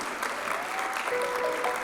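Audience applause at a preschool annual cultural function fills the space with steady, dense clapping at moderate loudness, with faint voices mixed in.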